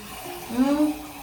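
Water pours briefly into a cooking pot for mutton biryani rice, a short splashing gurgle that rises and fades in under a second.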